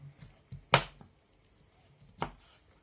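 A knife slices mushrooms on a cutting board, a few sharp separate chops with pauses between them, close and fairly quiet.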